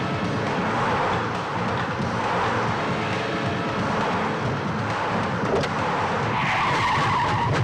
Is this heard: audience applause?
no